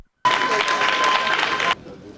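A church congregation bursts into loud, dense applause that starts abruptly, holds steady for about a second and a half, then stops sharply and leaves near quiet.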